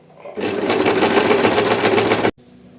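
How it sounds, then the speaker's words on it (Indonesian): Sewing machine running fast and steadily for about two seconds, close and loud, stitching elastic onto swimsuit fabric held stretched, then stopping abruptly. "Ini ngejahitnya sambil ditarik ya, karena kan dia karetnya lebih pendek daripada si kainnya, jadi harus sambil ditarik."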